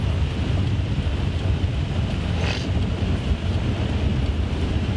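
Steady broadband rush of water churning beneath a car driving through a storm-flooded road in St. Vincent, continuous and close, with a low rumbling wash and no voices.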